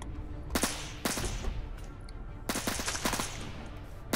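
Gunfire in a video game deathmatch, two quick bursts of rapid automatic shots over a low, steady game background, moderately loud.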